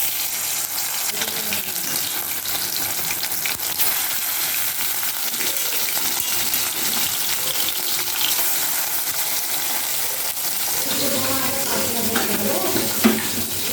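Shol fish frying in hot oil in a home kitchen, a steady broadband sizzle running throughout, with brief louder spatters and some clattering near the end.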